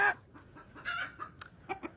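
A standard Silkie rooster gives a few soft, close clucks and short throaty calls in quick bursts, with no talking.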